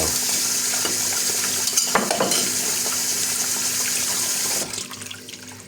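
Water runs steadily from a tap while dishes clatter and clink now and then, continuous splashing that drops off near the end.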